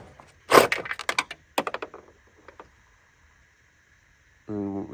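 A nut snapping off during parts removal on a BMW restoration: a sharp crack followed by a burst of clattering metallic knocks and scraping, close up, then quiet before a person speaks briefly.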